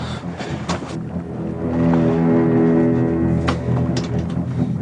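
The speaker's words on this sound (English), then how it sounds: "Start the engine." The engine of the fishing boat Orca from the 1975 film Jaws starts and settles into a loud, steady rumbling drone, with a few sharp knocks and clanks over the running motor.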